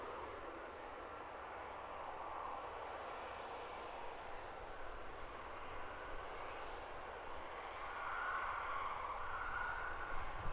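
A Wizz Air Airbus A321neo jet taxis onto the runway at Luton Airport for departure to Bucharest, its engines giving a steady, distant broadband roar that swells slightly toward the end.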